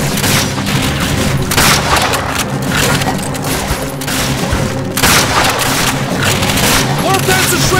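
Machine gun fire in the Call of Duty Finest Hour video game, a dense, continuous clatter of shots and booming blasts that runs throughout, loud and unbroken, with shouted voices mixed in.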